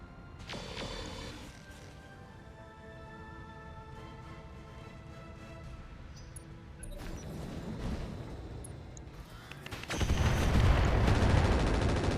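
Rocket pack fire and explosions from the mech combat game Roguetech, a sustained rumbling barrage with crackling bursts that grows louder and denser toward the end.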